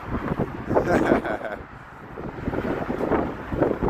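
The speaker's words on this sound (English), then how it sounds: "It's kind of windy now." Wind buffets the microphone in loud, rumbling gusts on a cold December Chicago street, with a voice partly buried beneath the blustery noise.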